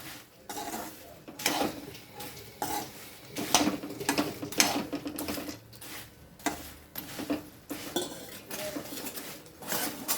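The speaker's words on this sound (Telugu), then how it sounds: "ఇవన్నీ కలిసేటట్టు కలుపుకోవాలి." Flattened rice snack being stirred with its tempering in a pan: a spoon scrapes and clinks against the metal in an irregular run of close, moderately loud strokes, with no talking.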